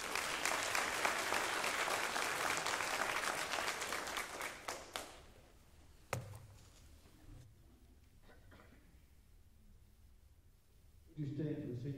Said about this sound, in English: One more time, give our seniors a round of applause.